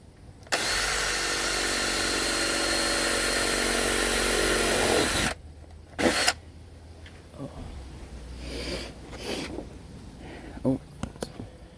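A big drill bit boring holes through the floor of a 1997–1999 Chevy C/K 1500 extended-cab truck, a loud, steady power-tool whine held for about five seconds, then stopping, followed by quiet shuffling and short knocks.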